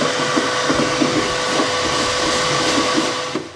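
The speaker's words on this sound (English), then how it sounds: "Now I'm going to grab my shop vac just to vacuum around these edges" A shop vac runs continuously close by as it vacuums debris from the edges of a Weber Genesis gas grill, a loud, steady whooshing drone with faint knocks as the nozzle moves, easing off at the very end.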